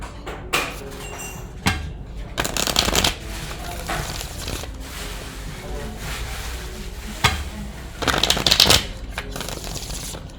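Cards are shuffled in several quick riffling bursts, with quieter handling and rustling between them.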